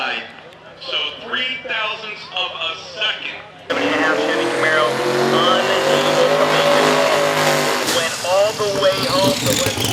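A Chevy Camaro at a quarter-mile drag strip, its engine roaring loud and close in a sustained blast that swells sharply after a quieter stretch, with people talking underneath throughout.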